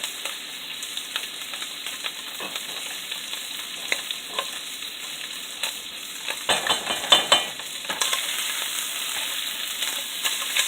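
Sausage fries and browns in a pan for keto jambalaya, giving a steady close sizzle. Scattered stirring scrapes and light clinks rise over it, with a busier cluster of scraping in the middle.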